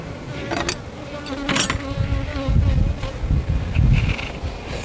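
Honey bees buzzing around an open hive during an inspection and split: a dense, close swarm hum with individual bees droning past the listener, continuous and fairly loud, with no speech.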